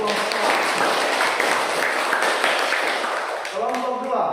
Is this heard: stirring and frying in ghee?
no